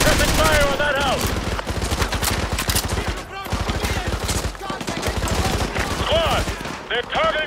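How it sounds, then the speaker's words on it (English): Dense, relentless automatic gunfire from a squad laying down suppressing fire in Call of Duty Modern Warfare 2 Remastered, loud overlapping bursts and rapid shots filling the whole battle scene with barely a gap. "Squad, put suppressing fire on that house."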